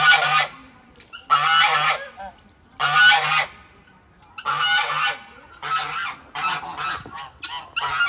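Waddles the duck honks noisily in loud, close, nasal bursts, a run of repeated harsh calls separated by short gaps.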